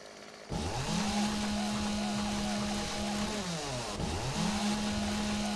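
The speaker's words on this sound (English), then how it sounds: "Let's see if she notices me over here with a chainsaw." A chainsaw in the video game 7 Days to Die starts up and cuts in two long revving bursts, its buzzing drone rising and dropping with a brief dip between passes.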